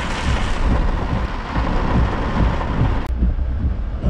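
Loud, steady thunderstorm with a continuous roar of heavy rain and low rumbling thunder, recorded outdoors near a partly flooded road, with a sudden break in the texture near the end as the noise shifts slightly quieter.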